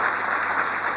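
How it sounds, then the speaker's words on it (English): An audience applauds at a humanitarian-finance conference session: dense, even clapping that holds steady for the full second without a break. "deserves a big round of applause"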